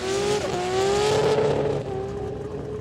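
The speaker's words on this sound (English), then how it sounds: "He knows how to power skid with this thing" A car power-skids at a street car event in the Kooralbyn Valley, its engine roaring and revving as the tyres squeal loudly, a sustained close screech without talk.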